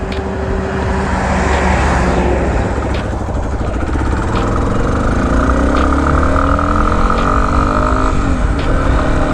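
A Yamaha XT250 motorcycle pulls away in second gear, its engine droning loud and close under a steady roar of wind and road noise, with a rising whine and a few brief clicks.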